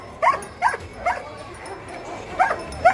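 A one-year-old dog at a busy Alexandria Friday street market gives several short yips and whimpering barks, spaced out over steady crowd murmur.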